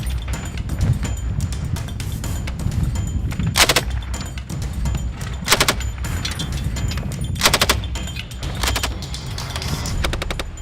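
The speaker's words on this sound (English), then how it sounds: "Medical staff looked on as grenades were launched and bullets were fired over the rough terrain." Machine-gun fire and launched grenades during a Falkland Islands Defence Force exercise over rough terrain, with continuous rattling bursts and louder booming impacts every couple of seconds, loud and dense throughout.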